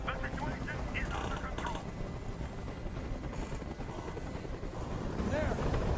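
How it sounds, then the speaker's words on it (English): A hovering helicopter in the video game Detroit Become Human gives a loud, constant rotor drone that fills the scene, with a voice talking over it. "I can't stand that noise anymore. Tell that helicopter to get out of here."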